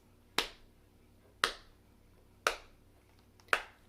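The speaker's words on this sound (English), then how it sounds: "I actually have footsteps recorded on this switch" Recorded footsteps play from a switch on a DIY tactile book: four sharp, evenly spaced steps about one second apart, close and alone in a quiet room.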